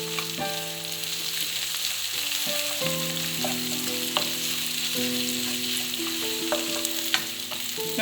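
Curry leaves and pandan leaves frying in hot oil for Sri Lankan tempered potatoes, a steady close sizzle throughout with stirring clinks, over a background of sustained tonal music.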